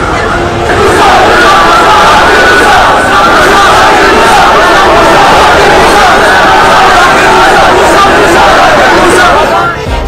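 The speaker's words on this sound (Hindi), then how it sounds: "ये भीड़ मूसा मूसा के नारे लगा रही है।" A large, dense crowd chanting slogans outdoors in Kashmir, loud massed voices merging into a continuous roar that holds steady throughout.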